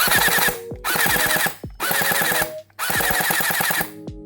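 Rapid bursts of automatic fire from an XYL APC9 electric gel blaster SMG, three or four long strings of quick mechanical shots with brief pauses between, loud and close.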